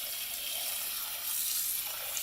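Tap water runs steadily into a sink to cover turkey giblets, a soft continuous hiss and splash that grows slightly fuller midway.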